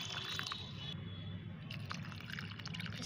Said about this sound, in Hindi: आप इतना पानी डालें कि अच्छी तरह से छिलके भीग जाएं